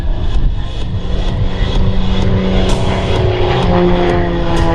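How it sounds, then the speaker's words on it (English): An MXS aerobatic airplane passes at an airshow, its engine drone loud and close with a rising, shifting tone and rhythmic pulses as it flies by. "Mr. Rob Holland coming in from the left this time, the MXSRH. Here he comes"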